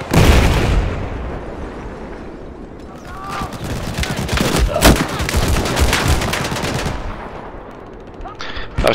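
Bursts of machine gun fire and other gunshots in the video game Battlefield 4 on the Hainan Resort map, loud rapid rattling with occasional booms, mixed with talk in the background.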